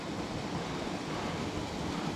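Water flows steadily in a small mountain creek, a constant close rushing wash with no voices over it.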